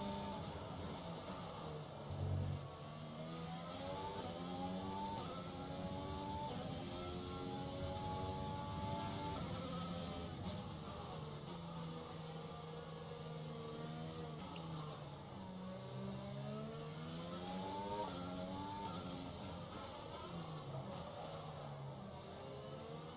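Race car engine from the F1 2020 video game, a Williams racing around Monaco, droning loud and continuous with rising and falling pitch sweeps as it revs through gear changes.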